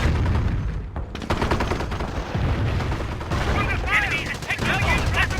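A mortar lobbing smoke rounds in a World War II strategy game, a rapid run of sharp gunfire-like cracks and thumps at moderate loudness, with a voice talking over part of it.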